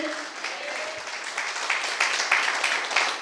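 A congregation at a Hindi-language Christian church service claps continuously, a dense, busy applause that swells slightly toward the end.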